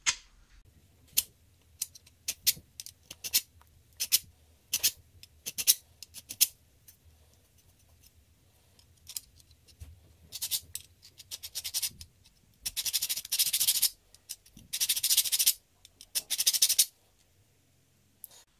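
A large metal file scraping across rusty saw teeth in short repeated strokes, quiet at first, then longer and louder rasping passes in bursts, close and alone.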